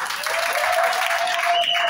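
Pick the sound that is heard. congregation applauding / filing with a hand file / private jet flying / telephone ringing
congregation applauding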